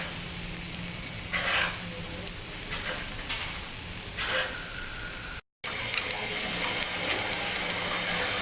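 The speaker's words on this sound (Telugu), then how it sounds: "పొంగనాలు సన్నని సెగపై పెట్టుకున్నాం కదా, కుక్ అవుతున్నాయి." Carrot ponganalu cooking in a pan over a low flame, a steady close sizzle with a few soft stirring or shifting sounds, continuous throughout with a brief break near the middle.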